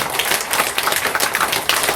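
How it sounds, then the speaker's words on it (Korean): An audience at a lecture claps for the speaker's wife: a short burst of scattered, moderately loud hand claps from a crowd that continues evenly throughout, with no voices over it. "우리 사모님을 위해서 박수 한번 보내주시면 되겠습니다"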